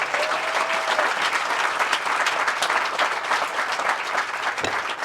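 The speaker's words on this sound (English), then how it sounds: "Round of applause for this day for everyone." A crowd at the groundbreaking ceremony for the Northland Workforce Development Center gives loud, dense, sustained applause that stays steady throughout.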